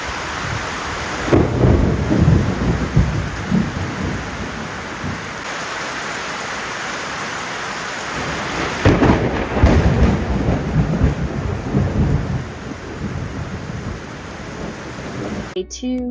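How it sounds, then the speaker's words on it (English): Thunderstorm rolling in over a garden, with rain hissing steadily and deep rumbles of thunder swelling twice before a brief faint voice at the very end. "The thunderstorm is rolling in"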